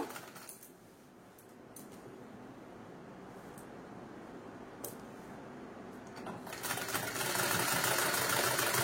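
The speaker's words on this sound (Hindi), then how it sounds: "हमें धीरे धीरे सिलाई करनबा सिलाई" A sewing machine stitches slowly on pant fabric with a faint, steady mechanical whirr and a few light clicks. It grows noticeably louder and busier toward the end.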